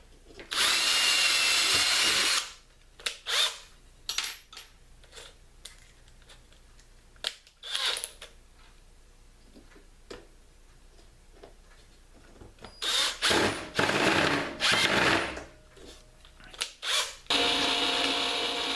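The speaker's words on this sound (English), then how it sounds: "you want to drill a pilot hole so that the screw will not split the wood" A power drill whirs in several bursts, some long and some short, with quiet pauses between them, close and fairly loud, boring a pilot hole in hardwood for a top bar brood frame.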